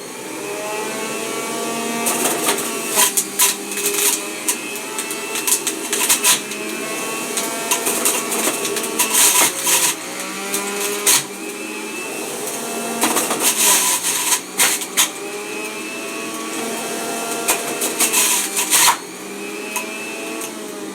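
A loud mechanical whine runs steadily throughout, with repeated harsh grinding bursts as carrots are fed into a Homgeek juicer running at high speed.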